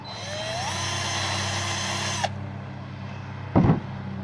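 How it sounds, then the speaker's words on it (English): A power drill whines steadily for about two seconds while drilling a hole for a kayak trolling motor lift, then stops; a brief clunk of the bit follows shortly after. "So let's drill this out."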